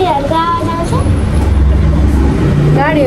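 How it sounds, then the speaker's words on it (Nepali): Road traffic passing on a hillside road near Nagarkot, with a bus or truck engine rumbling loud and close throughout, a continuous low drone with shifting tones, while people talk over it. "गाडीहरूको आवाज आउँछ"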